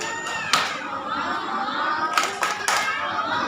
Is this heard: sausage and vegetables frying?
no